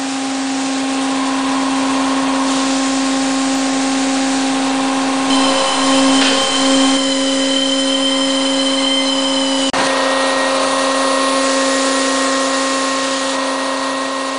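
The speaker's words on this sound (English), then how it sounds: "When bolting in the heading is complete, the boom is tilted into the deck to the travel position." A MacLean 900 Series scissor bolter for underground mining tilts its boom down into the deck to travel position, its hydraulic power unit holding a steady loud whine with tonal hum, brief shifts in pitch and a sharp click midway.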